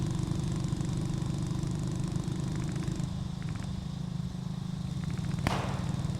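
A BMW car engine in a video game idles and rumbles steadily, shifting to a lower tone partway through. Faint clicks and a sharp crack come through near the end, with no voices.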